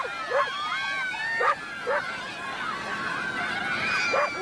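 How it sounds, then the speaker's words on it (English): A dog barks and yips in short repeated bursts on a residential doorstep during a Christmas visit, fairly close and loud, with a person talking in between. "Who belongs to this dog?"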